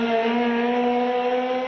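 A rusty compressed-air car runs steadily nearby, giving a sustained, even tonal whine with strong harmonics that holds without a break and has no voices over it.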